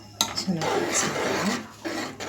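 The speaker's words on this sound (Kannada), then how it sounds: "ಈಗ ಎಲ್ಲವನ್ನು ನಾವು ಚೆನ್ನಾಗಿ ಮಿಕ್ಸ್ ಮಾಡೋಣ." Cooked toor dal being stirred into wilted methi (fenugreek) leaves in a pot for methi dal curry, with spoon scrapes and soft clinks against the pot over a few seconds, heard close alongside a voice in the background.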